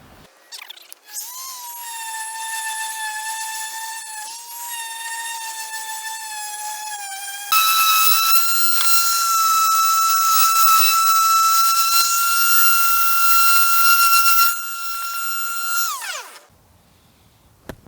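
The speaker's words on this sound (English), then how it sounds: "I'm gonna get my orbital sander real quick" A loud, high-pitched whining orbital sander runs continuously on a cracked sink, shifting to a harsher, brighter pitch midway before winding down at the end.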